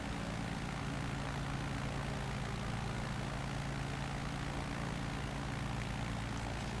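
Steady propeller engine drone inside a small plane in flight over Alaska's Inside Passage, a continuous loud hum with no talk.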